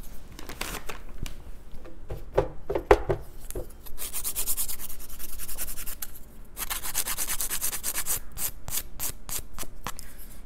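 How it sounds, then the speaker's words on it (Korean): A nail file rasps back and forth over fingernails to shape them into points, quick close-up scraping strokes in short bursts with brief pauses between them. "그냥 쉐입만 슥슥 다듬어 주면 될것 같습니다."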